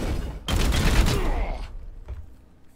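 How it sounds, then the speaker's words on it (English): Support fire gunfire in Warhammer 40k: Chaos Gate - Daemonhunters, a loud burst of rapid shots lasting about a second, then a fading tail and one faint later hit. "This will trigger the support fire that I was talking about."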